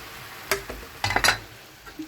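Mushrooms tipped into a pan of frying meat, heard as a soft sizzle with a few scraping, clattering stirs and pan knocks in short bursts.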